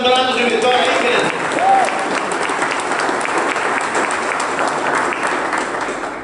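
A church congregation claps steadily and loudly and raises shouts, sustained applause filling the room from start to finish, with a voice heard briefly at the start.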